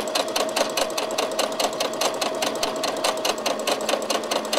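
A sewing machine stitches a hem with a twin needle, its steady rapid mechanical clatter running continuously and close without pause.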